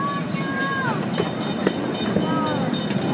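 A train at Irvine Park rumbles along the tracks with rhythmic clacks and squealing wheels, a voice speaking over the steady noise.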